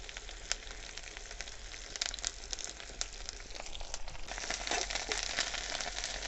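Curry leaves dropped into hot oil at an outdoor village cooking spot for a quail fry gravy: a crackling sizzle with sharp spits and pops that grows louder and busier toward the end.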